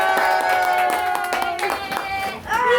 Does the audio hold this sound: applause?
yes